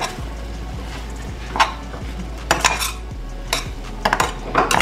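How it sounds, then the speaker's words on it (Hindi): A spoon stirring amchur powder into a cooked taro salad in a pot or bowl, steady scraping with intermittent clinks of metal on the vessel, close and moderately loud, no talk. "यहाँ पे मैं डाल रही थोड़ा सा आमचूर पाउडर, इसको खूब अच्छे से हमने मिक्स करना है"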